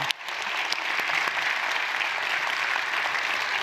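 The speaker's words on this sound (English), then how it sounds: "Give them a round of applause." An audience at a school district celebration of excellence applauds honorees with a steady, full wash of clapping that starts abruptly and holds evenly, crowd-wide and fairly close.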